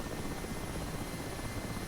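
Mi-8 Hip helicopter in the DCS World flight simulator, a steady, loud, dense rotor and engine roar filling the whole stretch with no talk.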